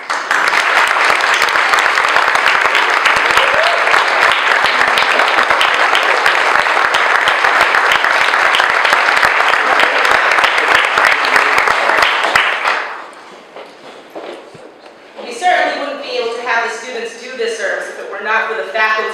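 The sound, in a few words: audience applause for service learning students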